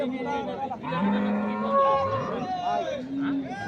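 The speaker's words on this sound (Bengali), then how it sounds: "এই পাশে আমরা আরেকটি গরু দেখছি" A dairy cow mooing at a rural cattle market, several long low moos close by, with faint crowd chatter behind.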